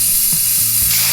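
An aerosol spray can hissing in one continuous, loud, close burst of bright hiss, with a few light rattling clicks underneath, and no voices.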